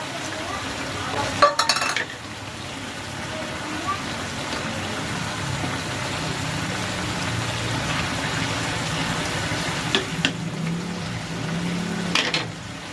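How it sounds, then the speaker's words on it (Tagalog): Mackerel dropped into a pot of creamy jackfruit simmering in coconut milk, with a brief clatter, then steady bubbling and soft stirring throughout, with occasional utensil knocks against the pot. "Ilalagay ko na rin itong mackerel."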